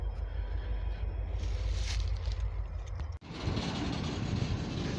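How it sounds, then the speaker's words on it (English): Freight train backing up on the rail track to pick up cars, a loud continuous rumble and rolling roar close by, with a brief dropout before the noise resumes. "I think this is our train."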